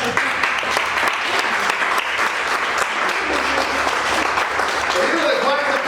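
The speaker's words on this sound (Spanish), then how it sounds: "Yo pensé que iba a dar un aplauso." Church congregation applauding during a Spanish-language worship service, a sustained dense wash of many hands clapping at steady volume, with faint voices mixed underneath.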